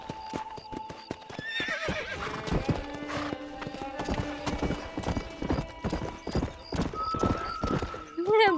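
Horse hooves clip-clop in a steady rhythm in Red Dead Redemption, joined by a loud neigh and whinnies, while someone talks over the sounds.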